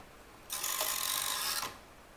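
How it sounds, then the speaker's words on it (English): The intarsia carriage of a knitting machine slides across the needle bed in one row, making a close, even, rasping swish that lasts just over a second and stops cleanly. "I'm going to work for 15 rows or an odd number of rows with intarsia carriage."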